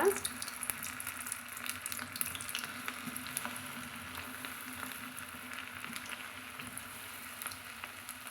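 Cauliflower pieces for crispy cauliflower chilli frying in well-heated oil, a continuous fine crackling sizzle that stays quiet and even from start to finish.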